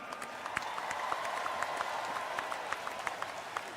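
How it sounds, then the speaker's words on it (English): Stadium crowd at a 2021 college football playoff semifinal at the Orange Bowl applauds both teams, a steady wash of clapping and cheering from a large audience, sustained throughout with no talk on top. "How about a round of applause for both teams tonight?"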